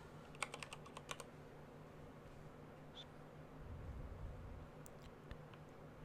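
Keys clatter on a computer keyboard in a few quick bursts of typing, near and fairly quiet against a faint steady hum, with no talking.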